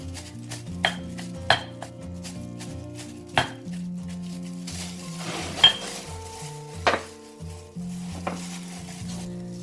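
A pestle pounds fish in a mortar, sharp knocks roughly once a second, over a steady background hum with faint kitchen clatter.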